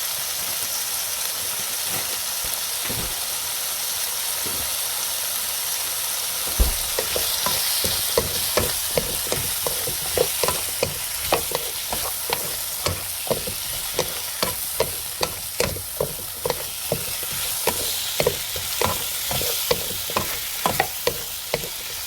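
Zucchini stir-fried for Korean squash bibimbap: a steady hissing sizzle, at first alone, then joined by quick regular spatula taps and scrapes against the pan, close and continuous with no voices.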